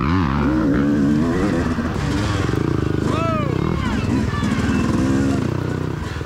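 A Yamaha YZ dirt bike races during a cross-country event at Loretta Lynn's, its engine loud and revving close by, with another bike's pitch sweeping past amid continuous rough engine noise.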